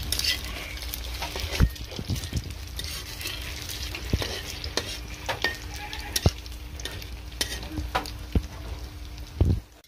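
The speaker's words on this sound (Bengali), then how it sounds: "দেখো মায়ের লাল লাল করে বড়া ভাজাও কমপ্লিট হয়ে গেছে" Chhana fritters fry in hot oil in a pan with a steady sizzle, while a spatula scrapes and clinks against the metal from time to time, close and without talking.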